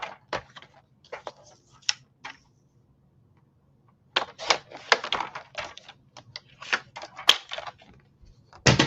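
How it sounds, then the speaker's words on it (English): Scissors snip through the corner of a sheet of paper in quick, crisp clicks, close by. Short bursts of cutting are separated by a long quiet pause, then a denser run of snips. "I'm going to cut that corner off"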